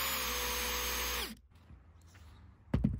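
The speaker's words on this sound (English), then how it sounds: "This is the impact driver into an impact wrench conversion, B3 version" A Parkside impact driver converted to an impact wrench (B3 version) whirs loudly with the trigger held, its pitch sagging slightly before it cuts out, followed by a quiet pause and a brief clunk.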